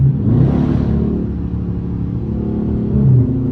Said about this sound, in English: this is nothing but a straight pipe Dodge Charger RT